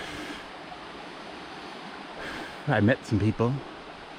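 A river rushes steadily far below a hiking trail on the Appalachian Trail, a constant broadband hiss of flowing water that persists throughout, with someone briefly speaking near the end.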